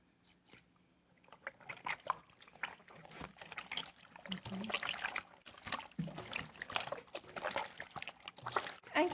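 Meat is rinsed by hand in water with vinegar, giving irregular close sloshing, splashing and trickling with wet handling noises that swell and fade throughout.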